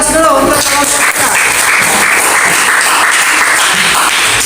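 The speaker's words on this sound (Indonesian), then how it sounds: "kasih aplaus dulu untuk kelompok kita" Loud, dense applause from a classroom of students for a presenting group, steady clapping close by filling the whole stretch, with a few voices mixed in.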